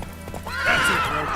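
Roach, the horse in The Witcher 3, clip-clops briefly at a gallop and lets out a close, clear whinny partway through.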